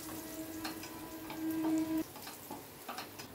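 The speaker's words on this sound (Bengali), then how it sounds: "কয়েক সেকেন্ড রসুনটাকে ফ্রাই করে" Chopped garlic frying in mustard oil, a soft steady sizzle with faint clinks and stirring scrapes over about three seconds, a brief tonal hum rising in the middle.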